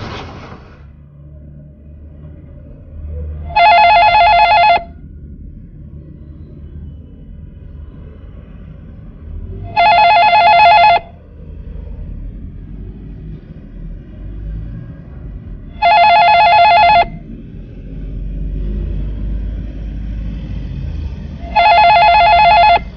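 An old-style telephone bell rings in four evenly spaced bursts of about a second each, loud and close, over a low rumbling background.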